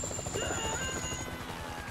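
A helicopter going down in GTA V gives off a steady, close rotor drone with a high whine that slowly drops in pitch, with no voices over it.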